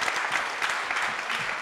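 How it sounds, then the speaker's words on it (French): Audience applause after a debate on housing and the French ELAN law, a steady dense patter of many hands clapping throughout the short stretch, moderately loud and without voices on top. "je vous propose de les applaudir."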